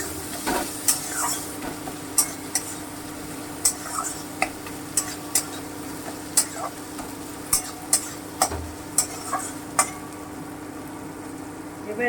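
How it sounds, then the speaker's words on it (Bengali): Ginger and chili paste being stirred in a pan for a Bengali piyali fish curry, a sizzling bed under repeated sharp scraping clicks of a utensil against the pan, steady and close throughout. "একটু নেড়ে নিচ্ছি।"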